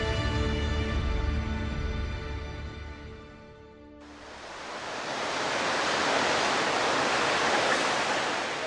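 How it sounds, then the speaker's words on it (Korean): Niagara Falls on the Niagara River, pouring about 7,000 tons of water per second, gives a loud, steady, full roar that swells in after a fading musical tone and then holds constant. "나이아가라 강의 위용을 만천하에 드러내는 나이아가라 폭포"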